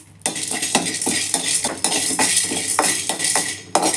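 Chana dal dry roasting in a pan, stirred with a metal spoon that scrapes and clinks against the pan in a steady, close rhythm, with no talking.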